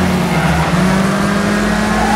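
Race car engine in Wreckfest roaring steadily as the car spins across the finish line, a loud continuous drone with tire noise and no pauses.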